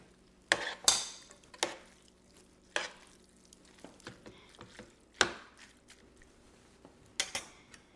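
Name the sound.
tossing Pad Thai noodles in a pan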